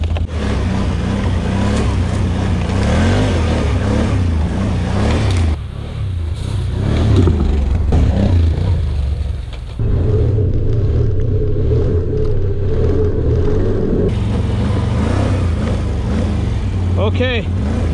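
A 2021 Can-Am Outlander 850 XT ATV rumbles along a slow trail, the engine droning steadily with shifts in pitch and load, while a rider talks over it.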